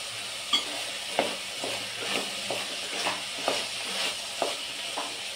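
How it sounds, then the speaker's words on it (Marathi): Soybeans sautéed with tomato in a pan over medium heat, a steady sizzle broken by rhythmic scraping stirs about every half second, close and fairly loud, with no talking. "मिडियम गॅसवरतीच थोडं आपण ते परतून घ्यायचं"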